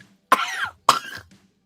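Two sharp coughs about half a second apart, close and fairly loud, each with a rough trailing tail, then quiet.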